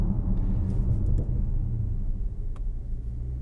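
A 2016 Audi RS7 accelerates calmly onto a freeway, its engine a steady low rumble heard from inside the cabin, continuous and moderately loud with no talk.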